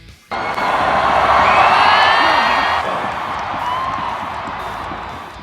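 A stadium crowd of 65,000 at a Korea–Thailand football match erupts in loud, sustained cheering, a dense roar with whoops that swells abruptly and then slowly eases off.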